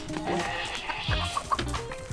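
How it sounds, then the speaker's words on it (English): Loose backyard chickens let out a few short, scattered clucks close by, soft and intermittent against quiet background noise. "Kill this chicken."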